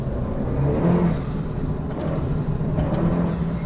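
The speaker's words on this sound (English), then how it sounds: "And the noise of the dump valve blowing" Turbo dump valve on a modified Renault Clio with an Audi 1.8T engine, a rising whistle then sharp hiss over the steady drone of the engine, repeated twice during a drive on twisty roads.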